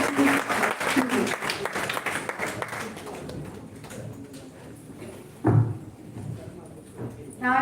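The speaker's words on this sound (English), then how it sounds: "please give a big round of applause for stage 2 university students" Audience applause for university students at an oratory contest, brisk clapping at first that thins and fades, with voices and a loud thump audible as it dies down.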